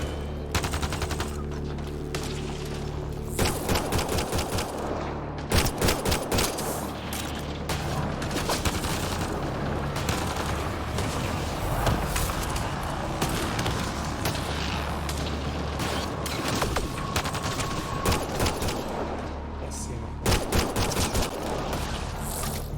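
Rapid bursts of gunfire and automatic weapon fire from an Xbox shooter game set on a hostile planet, dense and loud throughout with explosive booms and mechanical clanks.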